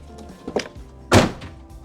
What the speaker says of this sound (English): Let's shut the door, see how much room there is inside the door.